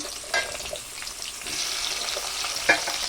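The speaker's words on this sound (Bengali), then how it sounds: "এবারে ওই তেলের মধ্যে ফুলকপিগুলোকে ছেড়ে দেব।" Cauliflower florets dropped into hot oil after potatoes were fried, giving a steady soft sizzle and crackle with a few sharper spits and clinks of a utensil, close by.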